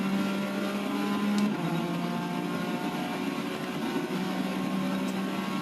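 A Porsche race car engine roars steadily in Forza 6, holding a loud, sustained drone at high revs as it pulls out of a turn onto the banking, with no talk over it.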